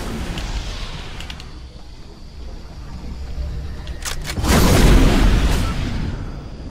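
An RPG rocket launcher fires and explodes in Fortnite, a few sharp clicks followed by a loud boom that swells and then fades over the game's ambience.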